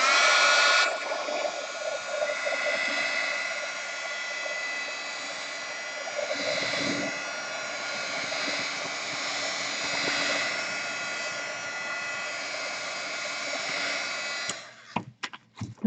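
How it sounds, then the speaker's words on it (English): A hair dryer blows on a watercolor painting of a raven in a journal, a loud, steady close-up whoosh lasting about fourteen seconds before clicking off with a few handling knocks. "here comes the dryer"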